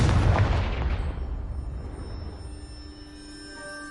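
A Confringo fire spell in Hogwarts Legacy blasts apart a rubble pile, a loud booming explosion that rolls out and decays into a lingering rumble and ringing over a few seconds, with no talking.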